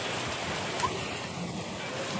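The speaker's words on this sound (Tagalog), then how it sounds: "Ang lakas ng ulan na naman, walang tigil." Heavy rain pours steadily outdoors under a tarp-covered stall, a dense constant hiss and patter filling the background with no break.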